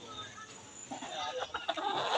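Chickens cluck and chatter close by while being fed, soft and overlapping, with some background noise and faint voices mixed in.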